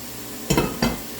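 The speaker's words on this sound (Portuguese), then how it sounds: "O alho já fritou, agora eu vou acrescentar aqui o guisado." Two short sizzling bursts come close together as ground meat drops into hot oil with golden fried garlic, each flaring loudly, then easing back to a quieter pan hiss.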